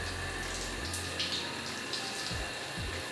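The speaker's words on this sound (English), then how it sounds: "Just gonna wet it down just like you would your hair, moving it around so I can get my scalp." Shower water runs and splashes through dreadlocks being wetted down at the scalp, a steady close spray with a low pump hum cutting out early and soft splashes as the hair is moved.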